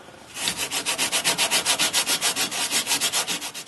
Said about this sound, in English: I've used a wire brush and abrasive pads just to loosen up.